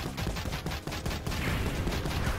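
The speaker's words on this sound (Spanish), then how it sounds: "Disparo automático." Rapid automatic gunfire from the side-scrolling shooter game Mighty Goose, a dense rattling burst of repeated shots running throughout with no talk.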